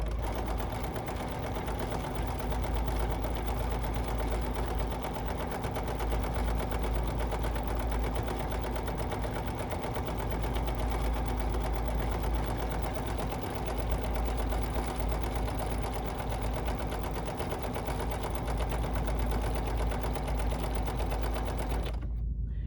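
A Bernina sewing machine runs a multi-directional turtle novelty stitch, a steady, even mechanical hum and rapid needle patter close by for over twenty seconds, then stopping abruptly, with no talk.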